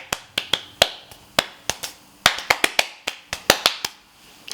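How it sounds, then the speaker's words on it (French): Around twenty sharp hand claps come close to the mic at an uneven, stop-start pace, with short bursts and pauses between them. No voices or other sounds are heard. "Genre en mode je vais applaudir."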